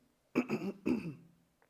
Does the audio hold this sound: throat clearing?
yes